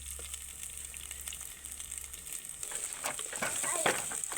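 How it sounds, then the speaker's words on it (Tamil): Onions sauté in a pan with spluttered mustard seeds for a pumpkin dish, a faint soft sizzle that grows busier as scraping stirring strokes come in toward the end. "வெங்காயம் நல்லா வதங்கிடுச்சு"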